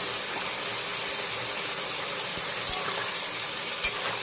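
Spice paste for a fish curry with pabda and bhola fish, cauliflower and potato sautés in a pan: a continuous soft, bright sizzle with occasional light scrapes and taps of stirring, fairly quiet and steady throughout.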